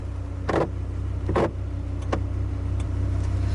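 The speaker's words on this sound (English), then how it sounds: "Wipers working just like they should." Windshield wipers on a 2001 Dodge Viper RT-10 sweep in a few separate passes, each a short swishing rub over a steady engine idle hum inside the car.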